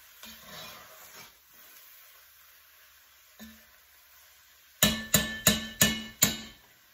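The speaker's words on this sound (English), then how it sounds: "Now I'm going to stir all of this up." Spoon scraping and knocking through pork stew ingredients in a pot, a burst of five or six sharp rhythmic stirring strokes near the end after quieter rustling, close and fairly loud with no talking.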